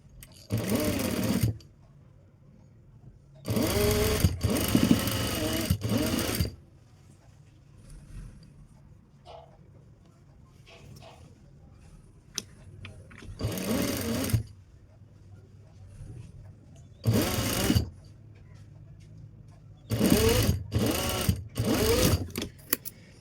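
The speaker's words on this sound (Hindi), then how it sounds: "तो यहाँ पर अब इसको हमने इस तरफ से अंदर की तरफ से सिलाई लगानी है।" An electric sewing machine stitches the neckline of a V-patti blouse in about six loud, close bursts of rapid whirring, separated by quiet pauses with faint handling and fabric rustle.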